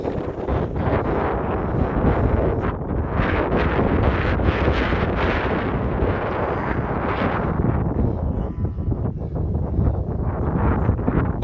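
Strong outdoor wind before an incoming storm roars steadily and buffets the microphone, with loud gusting rumble throughout and no talking.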